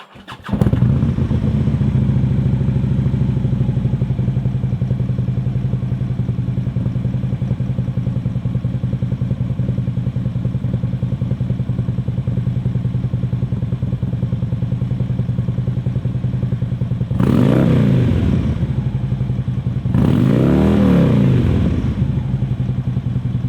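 A motorcycle engine fitted with a Vance & Hines Fuelpak FP3 fires up and settles into a loud, steady idle close by, with two short revs near the end.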